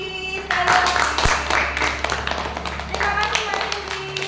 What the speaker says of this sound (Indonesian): tepuk tangan untuk kelompoknya Mbak Cindy